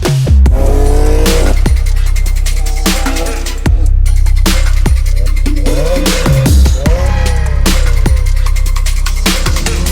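A Mazda MX-5 races hard on a track, engine revving up and down between sharp gear changes, with brief tire squeals and loud close bursts.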